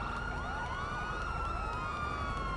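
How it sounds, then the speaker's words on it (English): A police car siren in a GTA video game wails continuously with rising and falling sweeps, loud and close over engine and traffic rumble, with no talking. "Saw the police car and stuff."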